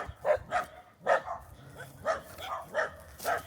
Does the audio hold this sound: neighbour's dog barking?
yes